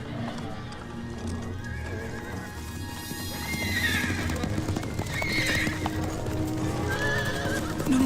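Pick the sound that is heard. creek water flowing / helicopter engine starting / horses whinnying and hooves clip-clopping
horses whinnying and hooves clip-clopping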